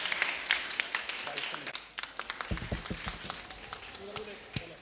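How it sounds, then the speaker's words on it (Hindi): An audience at a Jain cultural program in Delhi breaks into scattered, uneven clapping for a child, with sharp hand claps rising and falling over a lively hall and people talking nearby. "एक बार जोरदार ताली बजाए इस बच्चे के लिए"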